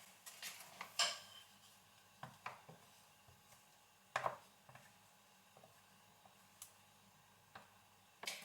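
Cupcake ingredients being stirred together in a bowl, with scattered clinks and knocks of utensil against the bowl, irregular and fairly quiet, alone without talk.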